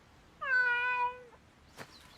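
A cat gives a single clear, drawn-out meow lasting under a second, close and alone, followed by a faint soft click.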